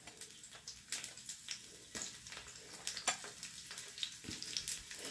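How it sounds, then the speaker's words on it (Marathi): Garlic frying gently in oil over a low flame for a tadka, heard as a soft, quiet sizzle broken by intermittent stirring scrapes and light taps, with no voices. "लसूण आपल्याला चांगला ह्याला परतवून घ्यायचं आहे।"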